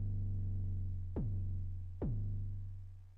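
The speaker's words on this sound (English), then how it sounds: "let me use another distortion" Synth tone run through a distortion effect: a buzzy, harmonically rich low drone with two sharp downward-sweeping zaps spaced under a second apart. It plays alone, with no voices, and fades slightly toward the end.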